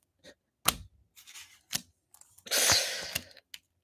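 Tarot cards are shuffled in a few quick flicks and riffles, ending in a louder rapid riffle, close up with no talking.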